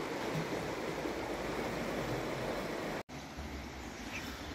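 A river flowing steadily along a woodland walking trail, a broad continuous rush of water that stays close and fairly loud, broken by a single abrupt dropout about three seconds in.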